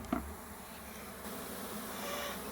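A dense, steady hum of many honeybees buzzing close by from a newly installed bee package in a hive, continuous with a brief knock at the start.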